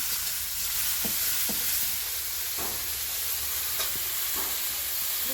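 Prawns frying in a pan in a home kitchen, with a steady broad sizzle throughout and a few soft stirring clatters from a utensil scraping the pan.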